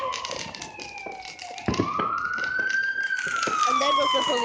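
A police siren wails, rising and sweeping in pitch against a busy outdoor street scene in D.C. during fireworks, moderately distant and blending with crowd noise and scattered pops.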